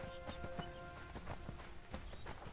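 Horses in the online video game ArcheAge: Unchained clip-clop in a steady, repeating hoof rhythm over a dense layer of game music and ambience, at moderate distance.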